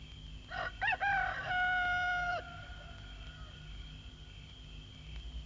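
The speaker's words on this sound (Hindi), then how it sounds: "देखो मुर्गा कब से बांग दे रहा है।" A rooster crows once, loud and fairly close, with a rising start and a long held tone that stops abruptly, followed by quiet background hum.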